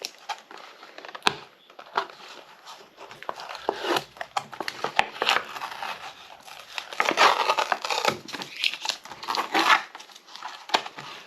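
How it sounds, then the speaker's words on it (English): Tape is carefully peeled off old plastic toy packaging for a Matchbox Peterbilt model, producing irregular crinkles, crackles and sharp ticks close up, with no speech. "Let's get this tape off careful."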